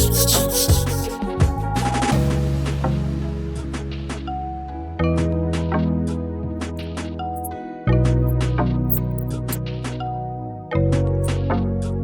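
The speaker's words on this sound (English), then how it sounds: "So let's start with the 200 grit sandpaper." Steady rubbing and scraping of 200 grit wet sandpaper on a foggy car headlight, close and continuous, with background music running underneath.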